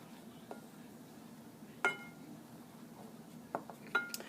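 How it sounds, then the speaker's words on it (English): Pholourie batter being stirred together in a bowl, with a few faint, scattered clinks and taps of a utensil against the bowl over a low, steady background. "I'm just going to stir everything around to make sure everything is well mixed together"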